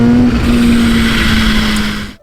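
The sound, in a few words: Kawasaki H2 SX supercharged 999 4-cylinder motorcycle supercharger flutter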